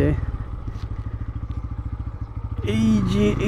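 A Bajaj Pulsar N160 dual-ABS motorcycle rides through a corner on a test ride, its engine pulsing in a steady low rhythm before rising into a louder rush, with a voice talking over it.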